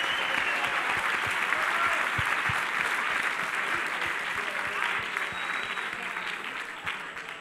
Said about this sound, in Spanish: quiero un aplauso para este elenco de personalidades que nos han ayudado